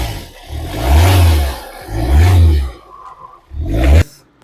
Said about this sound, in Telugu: డీజిల్ ఇంజన్ సౌండ్ గురించి చెప్పాలంటే ఒకసారి మీరే వినండి.